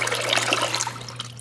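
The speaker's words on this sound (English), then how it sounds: "Should I not have poured it out?" Old, dirty windshield washer fluid pours out of a bag in a steady, splashing stream, loud and close, trickling thinner toward the end with no talking.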